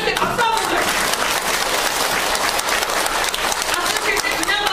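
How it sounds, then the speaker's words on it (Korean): An audience of elderly people at a senior safety education class with laughter and exercise claps loudly and steadily, a thick crowd of hands filling the room, with voices mixed in. "이럴 때 박수 한번 줘."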